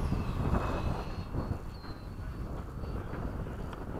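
An F-104 jet aircraft flies in to land with a loud, steady broadband engine roar, faint high whine bands running above, sustained close throughout.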